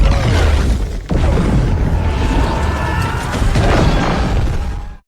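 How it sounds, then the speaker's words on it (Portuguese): Bomb blast in an animated Batman cartoon set off beneath an elevator, a loud, dense roaring explosion with crashing debris lasting several seconds before cutting off abruptly. "Batman manda todos subirem no elevador e faz uma bomba explodir embaixo"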